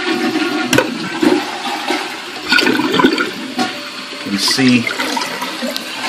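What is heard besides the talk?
low flow toilet flushing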